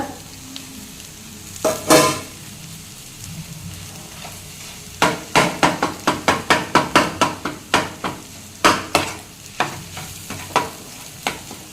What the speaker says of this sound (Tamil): முட்டையை உடச்சி விட்டுட்டு அந்த மசாலா கூட ஒன்று சேர நல்லா கலந்து விடுங்க